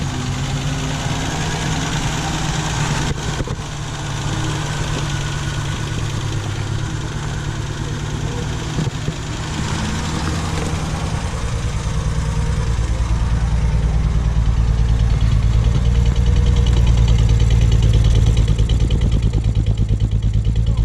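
The engine of a 1982 Ford Sierra Ghia, long undriven, idles with a steady, loud low rumble that deepens and grows slightly stronger toward the end.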